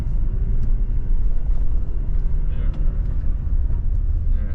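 Engine of a manual Toyota Tacoma pickup held at higher revs, a steady low rumbling drone from inside the cab over bumpy road, with someone talking over it.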